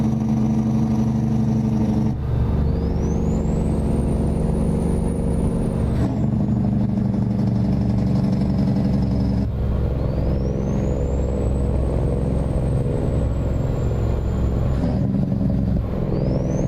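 A heavy truck engine in American Truck Simulator, modded to sound as if played through a speaker, drones loud and steady throughout with a constant low rumble and two long rising-and-falling whine sweeps.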